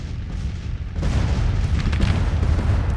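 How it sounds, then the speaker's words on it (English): Artillery fire booming across a Civil War battlefield in the strategy game Grand Tactician, a dense, loud, rumbling barrage that swells after the first second and carries on without a break. "The artillery is going to work."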